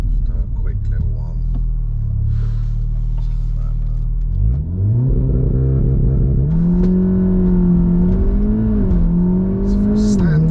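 A stock Volkswagen Golf R Mk7.5 launches hard from a standstill, its engine note climbing through rising revs and a gear change, loud and close inside the cabin.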